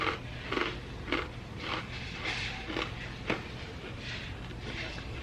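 Faint, close crunching of cheese crisps being chewed, a steady series of brittle bites over a low background hum, no talking.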